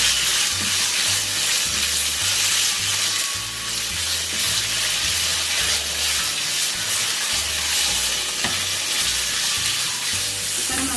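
Chicken filling for calzone pizza pockets frying in a pan, with a loud, steady sizzle and occasional stirring clatter throughout, no talk.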